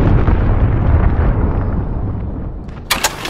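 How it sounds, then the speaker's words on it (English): A cruise missile blast in the video game Modern Warfare: a loud, sustained, rumbling explosion that slowly fades, followed by a few short sharp pops near the end. "Allied cruise missile away."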